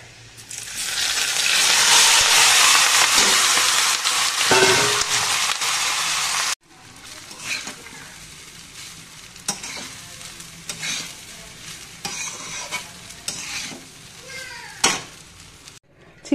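Whole garam masala and garlic sizzle loudly in a hot pan for several seconds, then the frying drops to a quieter crackle with scattered stirring clinks and scrapes.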